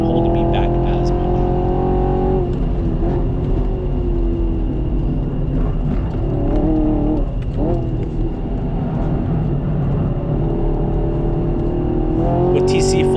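A 2024 Camaro SS 1LE runs on a race track, its V8 roaring loudly with rising and falling engine pitch as it accelerates and lifts, while someone talks over it.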